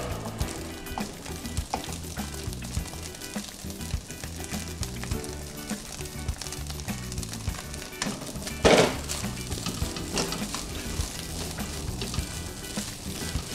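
Rice drops into a pan of frying egg for Chinese fried rice and gets stirred: a steady close sizzle with scraping of a utensil against the pan and one brief louder clatter, no voices.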